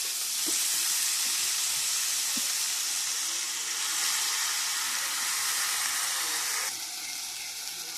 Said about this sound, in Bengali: কড়াইটা গরম হলেই দিয়ে দেবো আলুগুলো